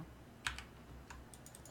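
Alt+O keys pressed on a computer keyboard: a sharp key click followed by a few softer taps, close and quiet, with no talking.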